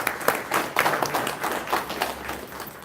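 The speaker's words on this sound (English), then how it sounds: "give him a big applause of thank you" Audience at a talk on Ambedkar and socially engaged Buddhism gives a modest round of clapping, thin and uneven, with individual claps audible in a loose rhythm.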